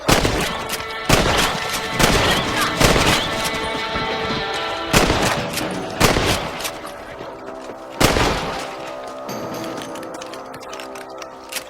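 Rifle shots ring out while hunting rabbits on a range in the Red Dead Redemption video game, several loud sharp cracks spaced a second or more apart, each trailing into a ringing decay over steady ambient game sound.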